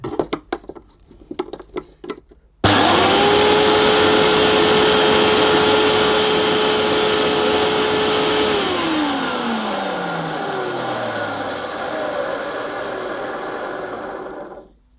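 Hoover PurePower 1300 vacuum cleaner with its back cover removed switches on abruptly after a few quiet clicks, its motor whining loud and steady, then the pitch sags and slowly winds down near the end.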